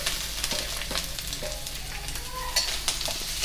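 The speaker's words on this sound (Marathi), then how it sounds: "कांदा ब्राउन कलर होईपर्यंत छानपैकी हलवत राहूया" Chopped onion sizzles steadily in a hot pan and is stirred continuously, with a dense, even frying hiss and occasional scraping clicks, no talking.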